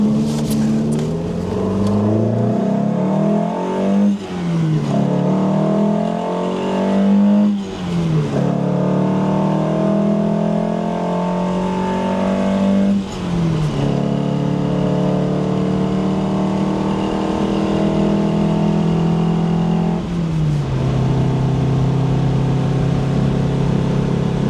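A Lancia Fulvia drives hard from inside the cabin, its engine revving up through the gears in rising sweeps with about five distinct gear changes that each drop the pitch before it climbs again, loud and close.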